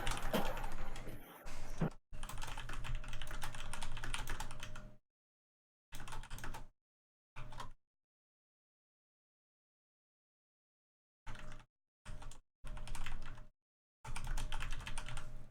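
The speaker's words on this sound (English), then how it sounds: "my keyboard has got to be like super loud" Rapid clicking keystrokes on a computer keyboard come in bursts separated by silent gaps, steady and fairly close.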